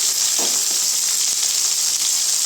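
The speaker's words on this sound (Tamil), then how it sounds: "இப்போ தக்காளி போட்டுக்கோங்க. தக்காளி போட்டு" Tomatoes frying with onions in oil for mutton kulambu, a loud, continuous close sizzle and hiss throughout, with a faint stir or two underneath and no talk.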